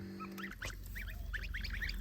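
Kholmogory goose goslings about ten days old give repeated high, thin peeping calls in quick bursts, close and fairly clear over a low background hum.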